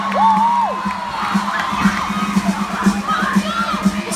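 A live concert crowd cheers and whoops for a rock band's show, a loud mass of voices with an opening yelled shout, over a steady thumping beat from the stage.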